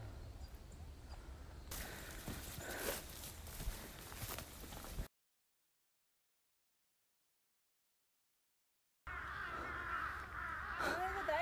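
Crows caw repeatedly in the distance on a mountain hiking trail up Okryeobong peak on Saryangdo island, harsh calls over outdoor ambience, broken by a few seconds of silence.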